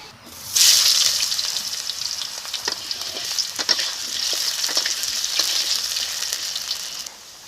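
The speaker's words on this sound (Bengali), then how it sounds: "এই তেলে আলু ও বেগুনগুলো ভেজে নেব" Potatoes and eggplant fry in hot mustard oil in a kadai with a steady, loud sizzle. Small crackles and pops run through it, and it fades near the end.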